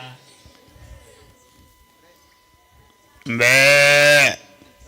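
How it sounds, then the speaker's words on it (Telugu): A single loud, drawn-out sheep bleat rings out nearby after a quiet stretch of faint background sounds. "ఆ గొర్రెలు కంచి చుట్టూ బయటకు వచ్చినట్టున్నాయి"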